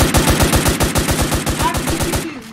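Fast automatic gunfire in the Roblox game Foblox, a loud, evenly spaced burst of roughly fifteen shots that runs nearly the whole time and then stops abruptly.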